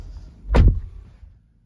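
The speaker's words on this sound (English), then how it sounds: "So we'll shut the door." A single solid thunk of a 2022 Ford Mustang Mach-E GT door shutting, close by, followed by quiet.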